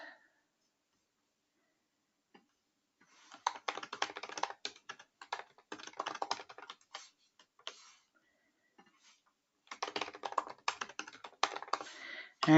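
Computer keyboard typing in bursts of rapid clicks with short pauses between, fairly close and moderately loud, with no talking.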